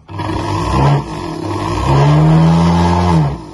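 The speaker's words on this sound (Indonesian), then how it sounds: "Sekarang kita genjot RPM tinggi." A Toyota Corolla Altis engine under service for an idle stuck at 2000 RPM runs close up, then revs hard to high RPM partway through, holding the strained, rising tone before easing off.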